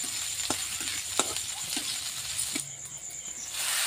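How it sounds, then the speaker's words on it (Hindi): Onion, ginger, garlic and green chili frying with popped mustard seeds in a village kitchen pan, a soft continuous sizzle broken by sharp stirring clicks and scrapes, close by with no speech. "सोरिष फुटीगला काटी रखिथिबा पियाज टिके अदा रसुण टिके कंचा लंका टिके देदेबा सब गुड़ा टिके भलसे भाजी नवा"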